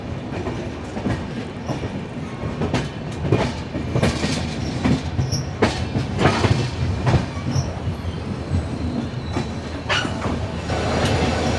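Sriganganagar Express train pulling out of Jodhpur, steady rumbling wheels with rhythmic clickety-clack over rail joints and occasional sharp squeals, heard from on board.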